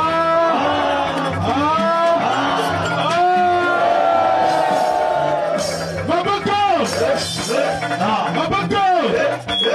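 A lively crowd cheers and shouts over loud music with singing at a celebration in Diosso, the noise sustained and energetic throughout.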